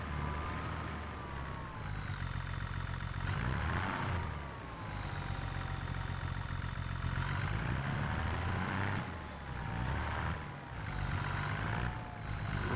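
A tractor in Farming Simulator 25 hauls a heavy trailer of nearly 2,000 liters of sugar, its mid-pitched engine droning steadily and rising in several revving surges, with no voices.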